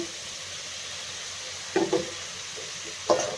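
Capsicum and egg with atta Maggi noodles fry in a pan, giving a soft, steady sizzle with a few brief stirring scrapes and clinks partway through.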